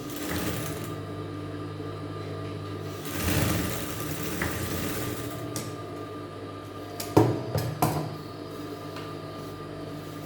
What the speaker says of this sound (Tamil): இது மேலே வச்சுருக்கிறத மேலே ஒரு படிமான தையல் போட்டுக்கலாம்.